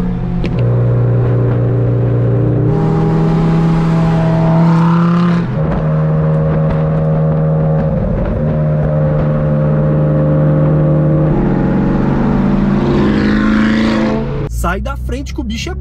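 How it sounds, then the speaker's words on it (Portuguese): Porsche 911 GT3 RS six-cylinder engine heard from inside while driving on a track, a loud steady high-revving drone climbing through gears with brief shifts, a person talking over it. "o barulho do 6 cilindros GTR é um monstro"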